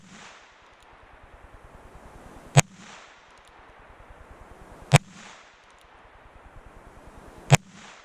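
Three sharp, loud revolver gunshots, one fired every two to three seconds, each a crisp crack with a short ring, over a steady low background.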